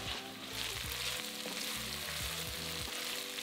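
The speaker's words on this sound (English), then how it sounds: "add in 12 baby chestnut mushrooms that have been chopped in half and cook for another 2 minutes" Chopped baby chestnut mushrooms sizzle with softened onions in a hot pan, a steady close frying hiss with soft stirring scrapes, and no voices.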